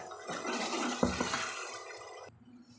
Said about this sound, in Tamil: தேவையான அளவு நம்ம தண்ணியை ஊற்றி கலந்துக்கலாங்க